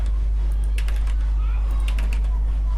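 Keys tapped on a computer keyboard while entering text, scattered clicks over a steady low mains hum, close and fairly quiet.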